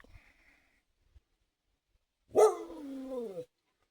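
After near silence, a dog gives one drawn-out bark that trails into a whine, close and fairly loud.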